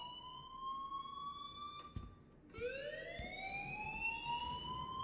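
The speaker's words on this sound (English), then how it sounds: "please turn off that alarm since that's your job" An alarm in Life is Strange wails in a steady rising tone, cuts out briefly, then starts again and sweeps upward, loud and continuous with no speech.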